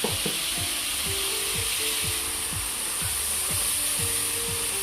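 Ground spice and lentil powder with masala sizzles in a pan as a dense, steady hiss while a spoon scrapes the bottom in regular, repeated strokes, close up and without talk.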